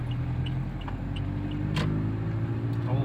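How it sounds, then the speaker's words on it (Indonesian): A 2016 Toyota Innova hums on a test drive, its engine a low steady drone that builds slightly as the car accelerates in third gear out of a turn, heard from inside the cabin. "Di gigi 3 belok, langsung injek gas."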